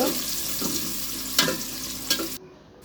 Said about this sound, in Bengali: পেস্টটা 2 মিনিটের জন্য ভেজে নিব